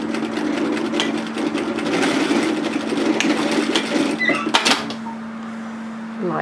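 Sewing machine stitching a shirt placket seam runs in a steady close whirring hum for several seconds, then slows and stops with a couple of clicks before a quieter tail.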